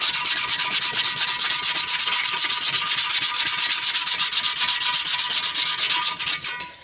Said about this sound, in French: Des pièces qui sont apprêtées et qu'il faut poncer au grain fin